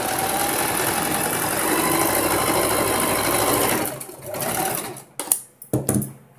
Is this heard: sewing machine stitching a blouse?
yes